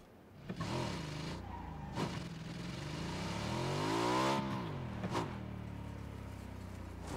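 A car driven in Playerunknown's Battlegrounds growls with a steady engine note that rises into a long rev and falls back, with a few short knocks and thumps along the way.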